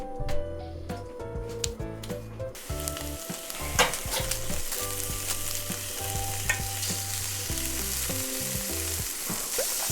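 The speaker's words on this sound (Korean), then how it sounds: "자 이제 고기 먼저 볶을 수 있도록 하죠 오늘 고기는 목살이고요" Pork neck stir-frying in a little oil in a pan for gochujang stew, a loud steady sizzle with repeated scraping and clacking stirring strokes, no voices.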